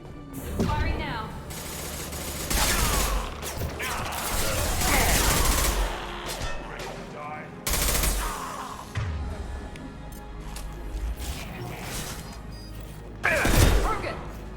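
Bursts of sci-fi weapon fire crackle in a Mass Effect 2 firefight, coming in several rapid volleys separated by short gaps, with a voice calling out during the shooting.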